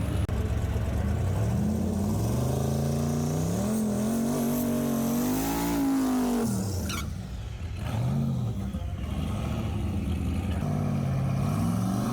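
A drag race car accelerates hard on low boost, its engine note climbing through rising revs, with a brief break around a gear change before it pulls again, loud and close.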